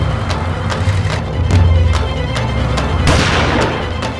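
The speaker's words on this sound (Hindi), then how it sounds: "पटाखे नहीं फोड़ रहे प्रिय, गोलियां चला रहे हैं, गोलियां।" Gunfire cracks in a quick string of sharp, evenly spaced shots, with a louder, rougher burst of bangs toward the end and no talking.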